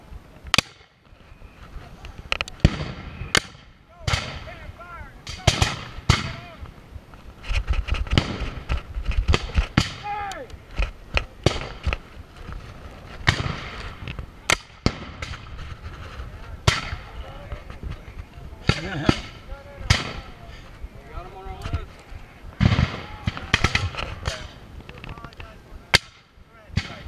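Gunfire volleys at an event in Biloxi, Mississippi: sharp cracks and bangs come in irregular bursts, some near and loud and others softer, mixed with people talking and calling out throughout.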